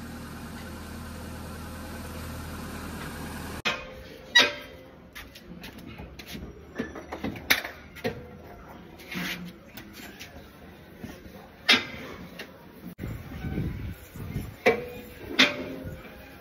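The engine of an old 20-year-old Hyundai Santro, started after standing idle for a year, runs at a steady idle with uneven rattles and knocks, while people talk nearby.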